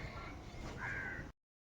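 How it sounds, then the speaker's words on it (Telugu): Crows caw faintly in the distance at dawn, heard from a rooftop over quiet background noise before the sound stops. "ఆవుల సౌండ్, కాకిల సౌండ్"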